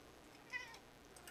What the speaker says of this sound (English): Cats are meowing.